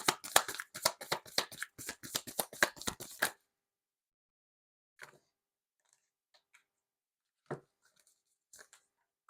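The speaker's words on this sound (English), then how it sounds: "Let's get some cards on the table." Tarot cards riffle-shuffled in a rapid burst of crisp flutters for about three seconds, followed by a few faint, sparse card taps and slides.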